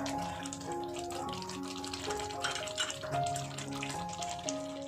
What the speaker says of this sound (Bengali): টক দইয়ের বাটি ধুয়ে দিয়ে দিচ্ছি পরিমাণ মতো জল